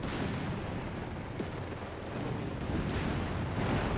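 Tank guns and combat fire in the World War II strategy game Company of Heroes 3 form a dense, continuous wash of rumbling battle noise, with a few sharper shots standing out from the loud background.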